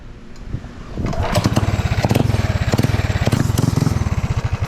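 A go-kart with a brand-new engine starts up and runs at idle, a rapid, steady putter that grows louder after a second and stays close and prominent.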